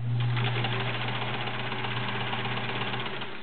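A Sears Kenmore model 1774 sewing machine runs through denim with a steady, close motor whir and fast rhythmic needle clatter, slightly strained at first, then even, with no talking.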